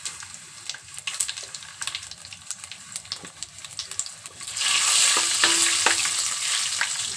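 Cumin and mustard seeds tempering in hot oil for dal with bottle gourd, sparse crackling pops at first, then a sudden louder hissing sizzle as more goes into the pan, with a few sharp pops on top.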